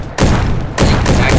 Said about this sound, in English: I shot 20 shots right at him